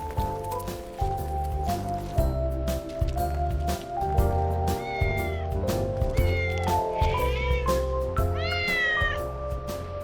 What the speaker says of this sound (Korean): 그런데 지붕에 모인 길고양이들이 무언가를 기다리는 듯합니다